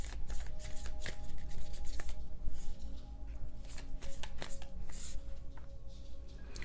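Tarot cards being shuffled, with rapid riffling and soft slaps of card stock that run continuously at close range and moderate loudness, with no voice over them.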